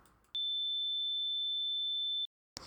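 A pure sine wave test tone plays in FL Studio, one steady high pitched note held for about two seconds, clean and loud, starting and stopping abruptly with near silence around it.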